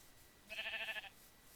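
A single short sheep bleat sounds in the video game Minecraft, a clear wavering cry over a faint background hum.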